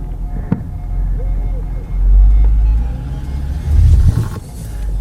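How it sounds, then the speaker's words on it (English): An automatic car put in gear with the e-brake on for a transmission test: a deep, loud engine rumble that swells twice as it revs and strains against the brake. "do a transmission test with an automatic, which is just putting it in gear with the e-brake on and making sure it pulls"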